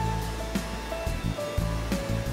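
The water wheel of a flour mill on the River Itchen grinding grain with millstones gives a continuous loud rushing roar of water, with low rumbling and faint steady mechanical tones running underneath.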